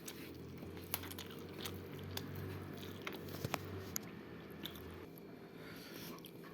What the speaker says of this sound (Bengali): এই খাওয়া শুরু করলাম।